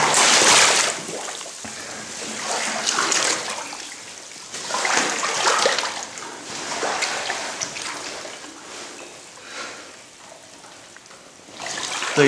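Water sloshing and splashing in repeated surges as someone wades knee-deep through water in an abandoned sewage treatment plant, close by with some wind noise.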